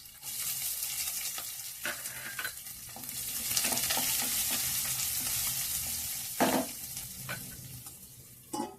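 Onions, green chillies and tempering spices sizzle in a pan, a continuous close hiss broken by repeated scrapes and knocks of a spoon stirring against the metal.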